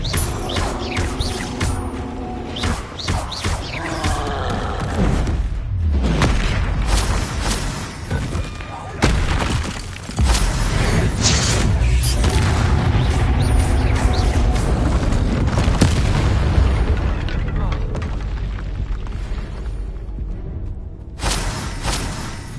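Explosive Confringo spell blasts in the Hogwarts Legacy video game during a troll fight, heavy booms, thuds and crashes recurring amid dense battle noise and game music, with a voice talking throughout.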